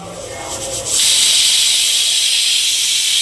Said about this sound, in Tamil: ஃப்ரெண்ட்ஸ் பத்து விசில் வந்துருச்சு ஆஃப் பண்ணிக்கலாம்